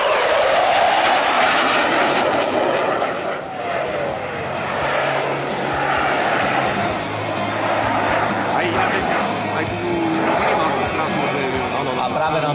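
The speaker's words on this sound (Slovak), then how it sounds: "A práve nám pilot lietadla JAS-39 Gripen ukázal efektný prvok, tzv. Prekrut, ktorý bol zakončený sériou rýchlych vykrutov" A JAS-39 Gripen fighter jet roars continuously through aerobatic manoeuvres, a loud, broad engine rush that swells and shifts in pitch as the aircraft loops and rolls, heard without talk.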